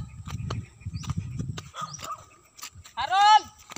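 A dog barks in a rural hillside farm setting, a few sharp barks and a whimpering yip close by, mixed with people talking.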